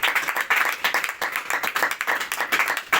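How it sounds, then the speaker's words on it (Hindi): A church congregation claps loudly in dense, continuous applause, the rapid hand claps rising and falling in waves for a few seconds. "जोरदार तालियां"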